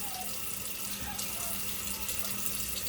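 Tap water runs steadily into a bathroom sink while a face is rinsed during a skin care routine, a continuous close hiss that fills the whole stretch.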